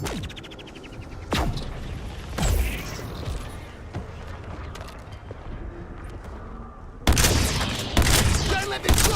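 Covering gunfire sounds in the video game Suicide Squad: Kill the Justice League: scattered sharp shots and mechanical clanks over a busy battle din, ending in a dense, loud burst of rapid fire.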